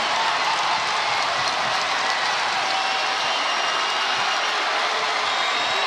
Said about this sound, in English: Murray State crowd back on its feet, and they are loud.